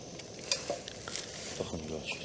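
Food frying in oil in a pan that is not yet fully hot: a soft sizzle with clinks of utensils and stirring, plus some background voices.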